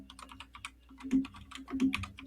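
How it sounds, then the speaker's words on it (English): Rapid clacking of computer keys, quiet and close, with steady irregular strokes over a low background hum and no talking. "I'm typing in the chat here."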